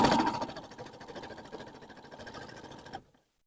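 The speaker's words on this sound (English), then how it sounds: "So I'm going to gently, with my foot pedal, go ahead and start sewing a bit." A sewing machine stitches a fabric quilted postcard, whirring in a fast steady rattle right up close for about three seconds before stopping abruptly, with no talking.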